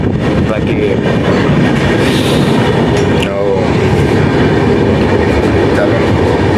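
A train runs at a railway platform with a loud, constant rumble and clatter of wheels, filling every moment without a break.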